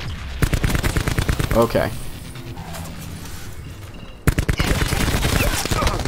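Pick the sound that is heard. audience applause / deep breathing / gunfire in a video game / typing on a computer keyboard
gunfire in a video game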